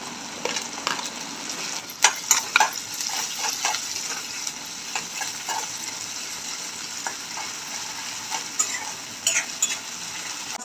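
Onions fried with a ground spice paste for a bitter gourd curry sizzle steadily in the pan, broken by repeated scraping and stirring clicks from a spoon, close up with no talking.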